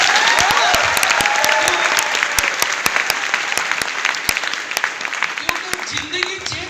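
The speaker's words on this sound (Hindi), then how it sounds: "सबसे पहले तो अपने आप के लिए एक बार ताली मार दीजिए" A seated audience of trainees at a business training session claps for themselves, loud and close, with sharp individual claps standing out over a dense crowd of hands that slowly thins.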